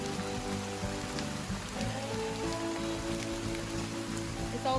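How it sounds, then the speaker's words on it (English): Rain falling on a trail at St. George Island, Florida, a steady patter with scattered drops over a low hum and faint tonal sounds, no talking. "That's why it's raining at St. God Island."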